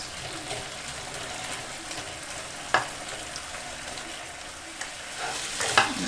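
Chinese sausage frying in a pan as water cooks off into pork fat: steady close sizzling and bubbling throughout, punctuated by a few sharp spits and clicks of stirring, with no talk.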